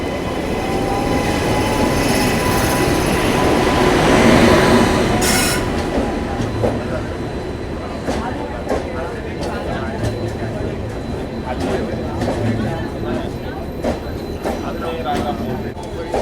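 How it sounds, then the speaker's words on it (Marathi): A superfast express train pulls in at the Ajmer station platform with a loud rumbling rush that eases into rhythmic wheel clatter and brake squeals, while people talk nearby on the platform. "आपली ट्रेन आली आहे."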